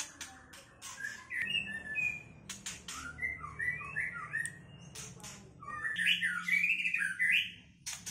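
A caged songbird chirps and squawks in bright, rapid bursts, trilling phrases and sharp whistled notes repeating close by against a faint background murmur.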